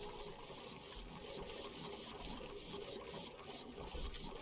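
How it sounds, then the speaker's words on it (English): Flowing water in the Oxygen Not Included video game, a steady trickling, pouring wash that runs continuously at moderate level with no voices. "That water's going."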